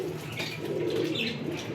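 High-flying Parwazi pigeons coo softly in a loft, a low continuous murmur with faint chirps above it.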